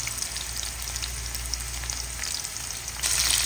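Garlic and onion sauté in a pan, a dense, steady sizzle heard close and loud without talk, growing a little brighter and stronger near the end.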